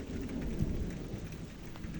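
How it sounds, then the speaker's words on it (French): Steady rain pours down in a thunderstorm, with low rumbling thunder underneath. The wash is dense and continuous, and there is no talking. "il commence à y avoir de la pluie, ça y est."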